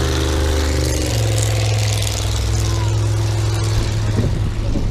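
Monster truck engines idle and rumble at an arena show, a loud, steady low drone that fills the whole stretch with little change.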